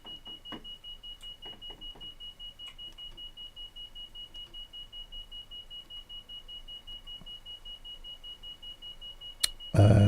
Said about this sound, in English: We've got a buzzing.